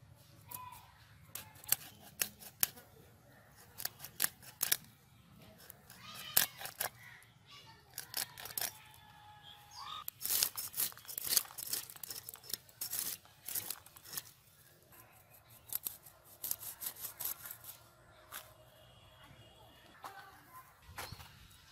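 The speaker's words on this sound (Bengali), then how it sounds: "তো সাবধানে আমি মাছগুলো পরিষ্কার করে নিব।" Freshly caught, still-live pond fish being cleaned by hand in a village setting, with sharp scraping and cutting clicks in irregular bursts, close and fairly clear against faint background noise.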